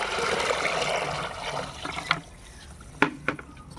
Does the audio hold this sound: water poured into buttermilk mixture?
yes